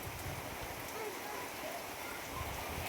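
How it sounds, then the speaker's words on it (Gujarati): Heavy monsoon rain pours steadily over farm fields in Gujarat, a dense, even wash of hiss with a low patter underneath, continuous and fairly distant. "વરસાદ તો અત્યારે બહુ પડી રહ્યો છે"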